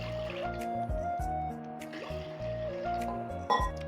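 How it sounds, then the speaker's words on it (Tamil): Water is poured into a pressure cooker in a home kitchen, a quiet, close trickle and splash with a low, steady hum behind it. "குக்கரில் 1 சொம்பு தண்ணி ஊற்றிப்போங்க."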